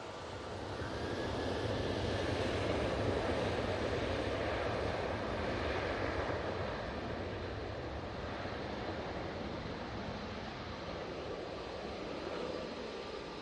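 A propeller aircraft approaching Manchester Airport gives a broad, steady droning roar that swells slightly early on, then holds at a distance, heard alone and fairly faint.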